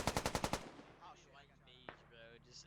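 An ASLAV's 30mm cannon in the game Squad fires a fast burst of about seven loud, booming rounds, then distant battle sounds and faint clatter follow.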